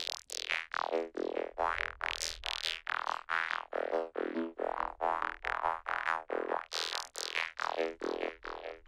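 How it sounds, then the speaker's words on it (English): Squelchy saw wave bass with an automated filter cutoff, playing a fast repeating pattern of short notes whose brightness sweeps up and down, each note wah-like and resonant, loud and continuous. "it's a saw wave sound, kind of based off a squelch"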